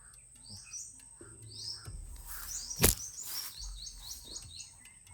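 Faint, high bird chirps repeat against a quiet outdoor background, with one brief sharp noise partway through.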